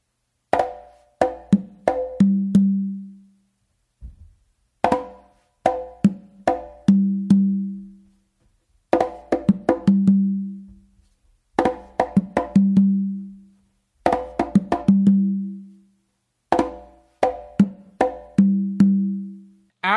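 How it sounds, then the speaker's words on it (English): Conga and tumba played alone in a repeating bomba pattern: sharp, crisp slaps followed by ringing, lower open tones, the phrase recurring several times. "Then I do another close slap with my left hand on the conga."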